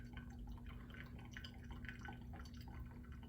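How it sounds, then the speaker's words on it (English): Pour-over coffee draining through the filter after the final pour, a faint steady trickle with soft irregular drips over a constant low hum, no voices. "While we let this final pour drain"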